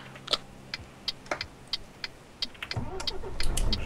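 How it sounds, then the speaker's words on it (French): Truck turn signal in Euro Truck Simulator 2 ticking steadily, with a dozen or so even, crisp clicks about a third of a second apart over a low engine hum, which grows busier toward the end. "je vais enlever le clignotant"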